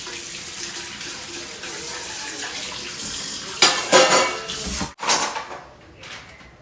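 Pots and pans are washed under a running tap in a home kitchen: a steady stream of water with clattering metal and cutlery clanks, growing louder toward the end before the flow stops.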